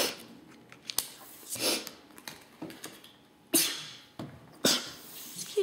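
A few short, sharp bursts of breathy noise like small sneezes, with quiet rustling between them, close to the microphone.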